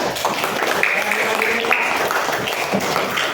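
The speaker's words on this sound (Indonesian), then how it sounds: "Beri tepuk tangan dulu kepada Eca." A fourth-grade class of pupils claps for a classmate who has answered a science question. The applause is steady, with chatter from the children and a teacher's voice mixed in.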